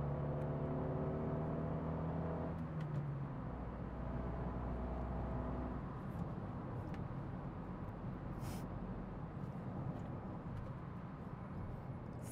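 A Fiat 500C Sport convertible with the 0.9 TwinAir Turbo engine drives along. Its low engine drone is fairly quiet, and a tonal whine shifts lower early on before a steady road hum carries on with no talking.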